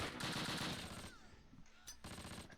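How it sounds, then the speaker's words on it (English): An MG34 machine gun in a Close Combat wartime battle rattles off a rapid burst, pauses briefly, then fires again, sharp and fairly near over a quiet background. "MG34 shooting in the flank"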